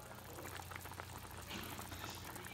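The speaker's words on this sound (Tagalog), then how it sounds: "So parang kumukulo na siya." A pot of noodle broth with chicken and pork comes to a boil, giving a faint, steady bubbling and gurgling simmer close by, continuous and without talk.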